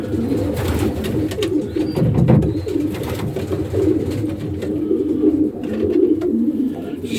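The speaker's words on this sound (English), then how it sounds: "She say these pigeons aren't even 12 months old yet." Young racing pigeons, less than a year old, coo steadily in a loft, a dense low murmur of overlapping calls heard close and continuous with no speech.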